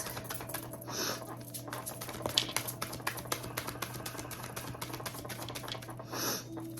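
Quiet, crisp patter of tarot cards being shuffled, soft rapid clicks with a couple of fuller riffling bursts, close by in a still room.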